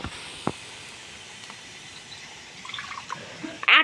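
Water is added to a cooking masala in a pan, producing a soft hiss and faint splashing close by, with a brief louder sizzle burst at the end.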